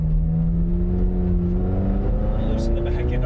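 A Ferrari 328 GTS engine drones loudly and steadily while the car is driven, with its tone slowly rising, and a voice can be heard over it.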